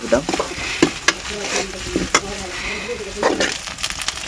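Garlic paste frying in a pan for a tribal-style curry, with a steady low sizzle under repeated scraping and stirring clatters of a utensil against the pan.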